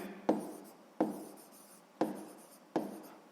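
A pen writes by hand on paper while working a sixth-grade maths exercise, making four distinct scratchy strokes, each starting sharply and trailing off, close and fairly quiet with no speech.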